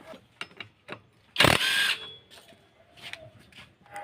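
Tools working on a Yamaha Soul GT scooter as its pulley is removed, with a few light metallic taps and clicks, then one loud burst of about half a second, likely a power tool or impact gun, followed by quieter clinks.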